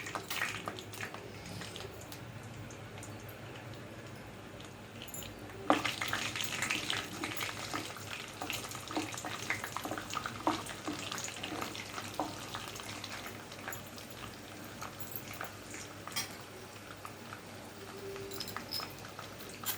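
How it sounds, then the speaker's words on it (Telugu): Urad dal fries in hot oil for tamarind pulihora, a steady sizzling crackle that jumps louder partway through as the dal hits the pan and keeps popping continuously, with no voices. "ఇప్పుడు మినపప్పుని వేస్తున్నాను"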